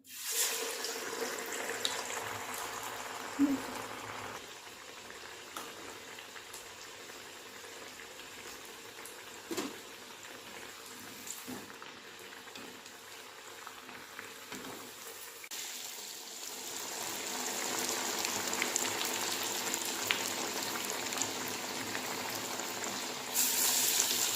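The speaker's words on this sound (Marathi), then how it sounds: "आता आपण आपले वडे तळायला घेणार आहे" Chana dal vadas fry in hot oil, a steady close bubbling sizzle that runs throughout and swells louder in the final third, with a few small knocks and no speech.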